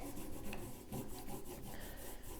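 A knife blade being stropped on a thick leather strop loaded with paste: a steady, close, continuous rubbing rasp with faint repeated strokes, no voices.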